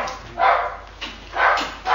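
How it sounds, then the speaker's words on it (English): Guard dogs outside a prison bark in a steady series of three or four loud, evenly spaced barks, with nothing else heard. "That's the guard dogs outside the prison"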